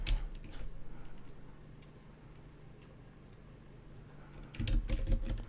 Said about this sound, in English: Remember, I'm Control clicking.